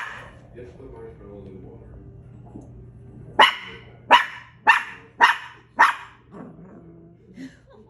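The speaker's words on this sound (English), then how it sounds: "I've never heard her growl." A pet dog barks five times in a quick sharp series after a stretch of quiet indoor sound, with a faint low growling rumble around the barks.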